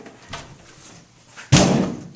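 A mobile home storm door is handled with a soft creak and rattle, then shuts with a loud, close slam that rings briefly before fading.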